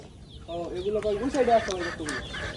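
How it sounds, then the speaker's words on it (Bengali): Native deshi chickens on a farm cluck and squawk in a lively, overlapping chorus close by, with voices talking underneath. "আপা পিছনে অনেক মুরগি আছে"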